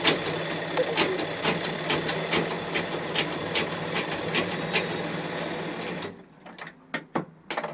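Sewing machine stitching a lining onto a cloth border for sleeves: a continuous fast mechanical whir with rapid regular needle ticks for about six seconds, then it stops and a few separate clicks and handling knocks follow, close up.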